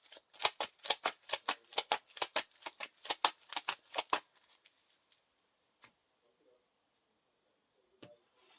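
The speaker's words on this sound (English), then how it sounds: "Now we shuffle a Tom Bombadil into the encounter deck." Playing cards being riffle-shuffled into an encounter deck during a tabletop card game, a quick rhythmic run of crisp riffling bursts for about four seconds, then a few faint taps and near silence.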